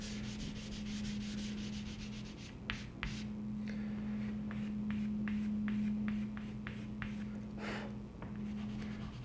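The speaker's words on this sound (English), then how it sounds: "I'm going to rub this whole corner in black" Charcoal rubbed across paper to darken a corner, a series of soft, close scratchy strokes in an uneven rhythm over a faint steady hum.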